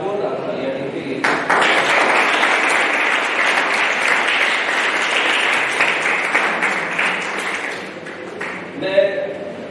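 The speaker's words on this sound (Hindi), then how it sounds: "तो एक बात जोरदार तालियां इनके लिए।" Enthusiastic applause at a school summer camp event at an inter college, a dense crowd of clapping hands sustained loudly for about eight seconds before fading, with a voice speaking at the end.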